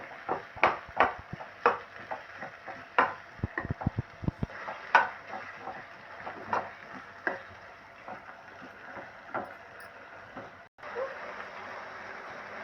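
Onions and tomatoes being stirred back and forth in oil in a pan for a simple tomato curry, with repeated close spatula knocks and scrapes in an uneven rhythm, no voice over them.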